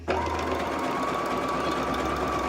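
Sewing machine running a decorative stitch 14 along a towel border, a fast even mechanical hum and whir that starts abruptly and continues steadily at close range.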